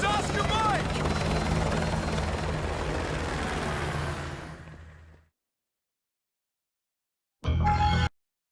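A military helicopter in the Call of Duty: Modern Warfare II campaign roars with a dense rotor and engine wash for about five seconds. It fades to silence, then returns in a short, loud burst.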